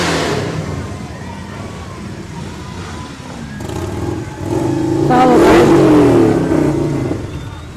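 Motorcycles rev in a Labor Day-style street parade at the Tulip Time Festival in Holland, engines rumbling at first, then swelling into a loud, close revving roar, with people talking underneath.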